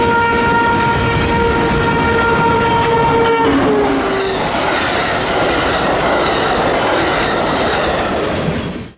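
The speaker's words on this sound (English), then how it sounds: "that Amtrak unit with the dreadful horn came back" An Amtrak locomotive horn blasts with steady, harsh chord tones, then cuts off as the rumble and clatter of passing rail cars continue loudly.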